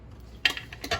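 A lid is set back onto a cooking pot with a couple of quick metallic clinks and taps, brief and close, in a quiet kitchen.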